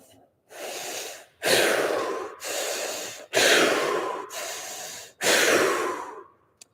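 Three deep breaths drawn in and pushed out through the mouth during a fascial movement session, each a long, close, airy rush with short pauses between inhale and exhale.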